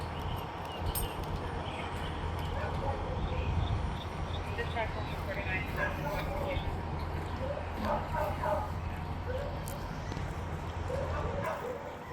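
At a fire crew response to a natural gas leak, a dog indoors barks and yips intermittently in the background while people talk over a constant low hum.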